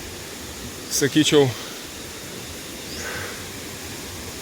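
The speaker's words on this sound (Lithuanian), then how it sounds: "Čia pirmas krioklys." Steady broadband rush of the first waterfall at Ba Ho Falls near Nha Trang, Vietnam, continuing throughout at moderate level, with a short burst of a man's speech near the start.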